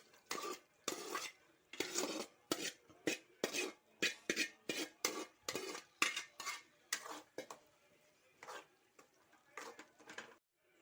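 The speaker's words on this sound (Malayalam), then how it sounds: "ഇതിലേക്ക് ഞാൻ ഈ കുമ്പളങ്ങ വേവിച്ചത് ഇട്ട് കൊടുക്കുകയാണ്" Cooked ash gourd pieces tipped into a pan of boiled, thickened vinegar mixture while making pickle, with a run of sharp metal spoon clinks and scrapes against the pan, close and quiet.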